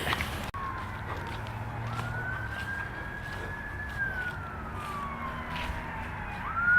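A police siren wails in a rising and falling sweep as traffic rumbles, the vehicle passing by at moderate distance.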